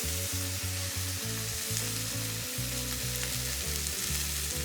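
A steak in olive oil sears in a de Buyer Prima Matera copper pan, giving a loud, continuous close sizzle, with a pulsing hum running underneath.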